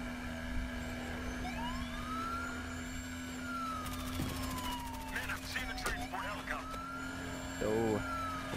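A police car siren in the video game Battlefield Hardline wails with rising and falling sweeps over engine drone and other game noises, moderately loud throughout.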